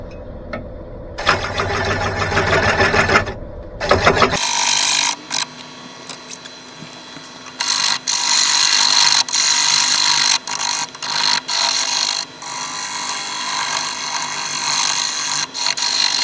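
Carbide cutter on a woodturning lathe cutting a rotten, crumbling wood blank, giving a loud sustained rough scraping roar broken by several short pauses, after a few seconds of quieter machine hum at the start; no talking.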